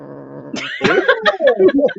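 An unhappy cat yowls and growls up close in a string of rising and falling caterwauls, each cry following the last with only brief gaps and no speech over it.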